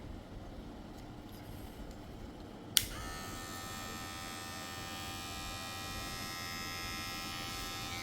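A small electric hair clipper with a fade blade switches on with a click and then runs with a steady, close, high-pitched motor buzz, alone, without any talk.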